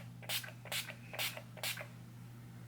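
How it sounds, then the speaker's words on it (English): A makeup finishing spray is misted onto a face: four quick, faint hissing spritzes in an even rhythm over a low background hum. "I'm just gonna spray my face with some Scandinavia makeup finishing spray"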